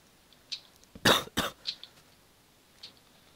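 Two sharp, close coughs in quick succession, with a few faint clicks and small noises around them; no talking.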